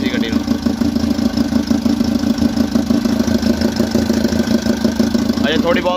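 Tempo Traveller van engine idling with a misfire after new cylinder head valves were fitted, a steady mid-pitched chugging with an uneven beat, running continuously up close.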